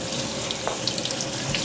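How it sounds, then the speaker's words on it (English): Hot water runs steadily from a kitchen tap over cooked spaghetti in a sink, a continuous close hiss and splash with no talking. "okay, that's hot water."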